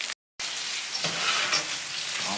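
Breaded veal cotoletta milanese frying in a pan of hot fat, a steady close sizzle and crackle throughout with a brief dropout near the start.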